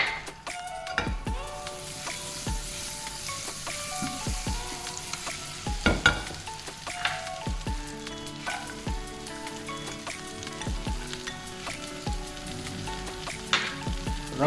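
Prawns frying in butter over a high flame, a dense crackling sizzle with repeated sharp spatula knocks and scrapes against the pan, close and steady, no voices.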